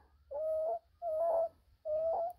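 A child imitates an owl with three drawn-out, even hoots, close and clear, spaced by short pauses.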